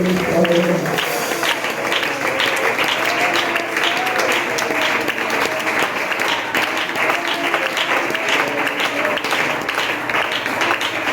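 A church congregation applauds in a dense, sustained wash of clapping, loud and even from start to finish, with crowd noise mixed in.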